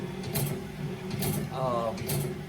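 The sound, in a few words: BMS 250 sharpener sharpening a bandsaw blade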